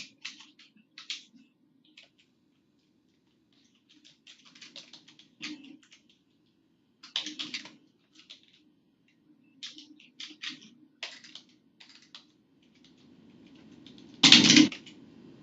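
Scattered keystrokes on a computer keyboard come in short irregular bursts with pauses between them, close and fairly quiet, ending in one louder clack near the end.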